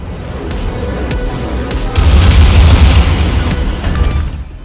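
Secondary guns of the German Tier 8 battlecruiser Zieten booming in World of Warships, a dense, loud roll of overlapping blasts and rumbles swelling in the middle before easing off.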